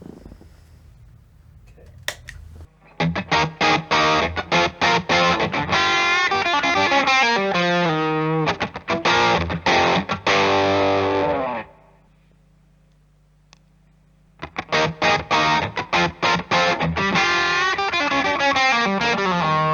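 An electric guitar runs through a Nobels ODR-1 overdrive pedal with the gain at 12 o'clock and the spectrum knob at 9 o'clock. Loud, driven chords and strummed riffs break off into a short near-silent gap, then resume strongly, with no voices.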